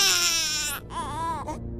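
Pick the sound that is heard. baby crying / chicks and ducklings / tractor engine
baby crying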